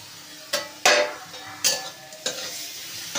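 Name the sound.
spices added to fried onions, stirring and sizzling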